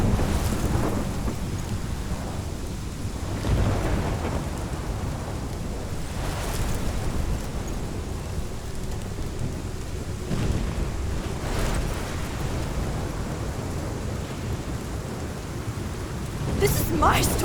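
In the Life is Strange video game, a dense thunderstorm roars steadily with heavy rain and wind, broken by several rolling thunder swells and sharp cracks, loud and close, with a bit of talk over it.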